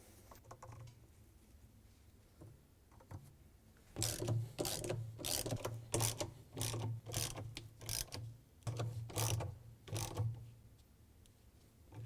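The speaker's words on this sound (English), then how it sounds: "tighten them down with our 10mm socket" A ratchet with a 10mm socket clicks in repeated quick bursts, tightening screws on an LG/Kenmore washer, close but fairly quiet over a low steady hum.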